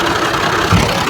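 A tractor engine idles steadily close by, a continuous low rumble with a brief heavier thump near the end and no voices.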